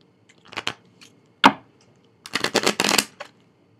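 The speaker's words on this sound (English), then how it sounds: "You decide to shuffle some cards." Playing cards are shuffled by hand close up in a few quick riffling bursts separated by short pauses, with the longest burst at the end.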